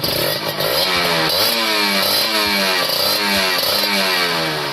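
A Kawasaki Ninja RR two-stroke motorcycle is revved hard in quick repeated bursts, a raspy, buzzing engine note climbing and falling close by.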